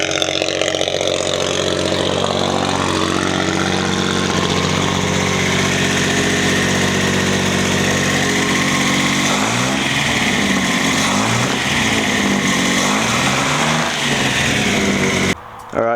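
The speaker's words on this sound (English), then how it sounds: "now she's idling a bit high and a bit more loud," A carburetted Datsun 240Z engine idling fast and loud, a steady rough drone that stays constant throughout before cutting off at the end.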